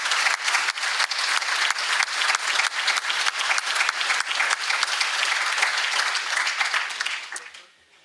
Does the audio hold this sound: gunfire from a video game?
no